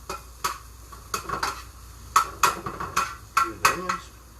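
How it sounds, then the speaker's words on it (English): Browning mushrooms get stirred in a pan, with a run of sharp spoon knocks and scrapes against the metal every half second or so over a low background sizzle. "And we'll go back to mixing our mushrooms."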